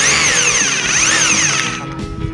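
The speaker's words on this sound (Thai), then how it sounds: "เสียง ค่อนข้างจะดังเหมือนกันนะครับ ก็เป็นสว่านกระแทกนะครับ" Bosch GBH 180-LI 18V cordless rotary hammer drill running loud and steady up close, its whine sweeping up and down in pitch before easing off near the end.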